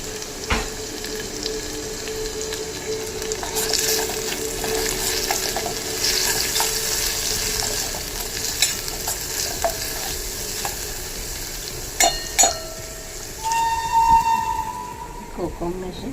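Spices sizzle and fry in a pan as turmeric goes in for a kokum curry, with a spoon stirring and scraping through it and a few brief clinks of utensils near the end, all heard close up.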